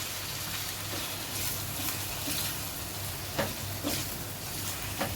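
Eggs with chilli powder, coriander powder and fresh coriander sizzle in a steel pan on the gas as a spatula stirs and scrapes them, making a steady close frying hiss with a few sharper scrapes.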